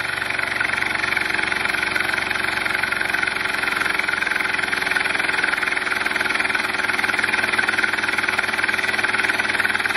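A steam engine runs on compressed air from an air compressor with no load, around 1300 RPM, giving a steady, loud, continuous mechanical chugging hum with a fast even beat and no voices.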